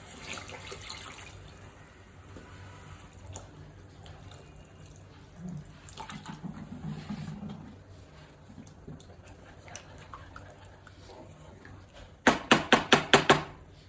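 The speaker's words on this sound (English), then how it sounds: "Add water." Water pouring and splashing from a tap into a pan of paneer curry with cashew paste, a soft running stream with faint clinks, then a sharp burst of rapid clattering knocks near the end.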